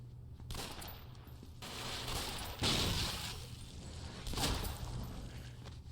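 Bursts of machine gun fire in a video game, sounding as dense broadband rattles that swell and fade over several seconds, with a sharp louder volley partway through and no talk over it.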